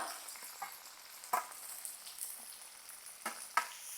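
Onion and curry leaves fry quietly in a pan, a faint steady sizzle with occasional light taps and scrapes of stirring, close but low in level.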